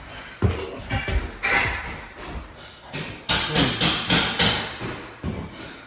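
Hammering rings out during a bathroom demolition as a series of sharp, loud, irregular strikes, some in quick clusters, with clatter and thuds from the work in between and no talk.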